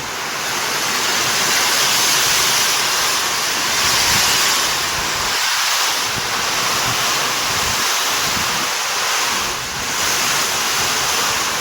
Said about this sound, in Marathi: बेकार आवाज कसला पाऊस पडतोय बघा समोर